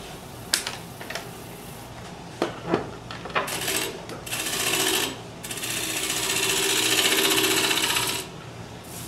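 Woodturning lathe making light finishing cuts on a calabash bowl: a few sharp scraping ticks early on, then sustained broadband cutting hiss in long passes, close and fairly loud.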